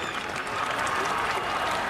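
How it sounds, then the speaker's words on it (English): A stadium crowd at an Adelaide Stadium Super Trucks race roars and applauds in a steady, dense wash of cheering, with commentary faintly audible beneath. "the crowd go mad here at Adelaide."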